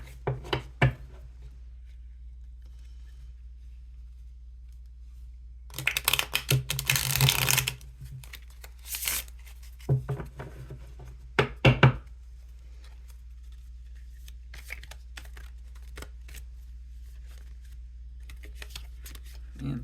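Slippery tarot cards being shuffled by hand, in several quick riffling bursts separated by near silence, close and crisp over a low steady hum.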